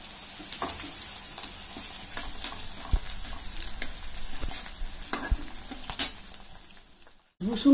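Ginger paste sizzles and crackles steadily in hot oil in a pan for an egg curry, with occasional stirring scrapes and a brief pause near the end.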